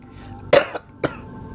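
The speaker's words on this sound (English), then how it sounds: "I'm coughing because those voices take a lot out of me." Two sharp, separate coughs, the first harsher with a throat-clearing edge and the second shorter, sounding close and loud against a quiet room with no talk.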